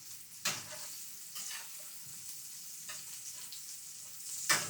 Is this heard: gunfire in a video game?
no